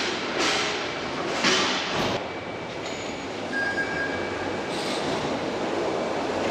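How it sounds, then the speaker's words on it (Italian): A funicular railway car running in Istanbul, heard from on board as a continuous rumbling roll with a few thumps and faint squeals of wheels, moderately loud and steady. "E questa, ragazzi, era una delle funicolari che servono per muoversi dentro Istanbul"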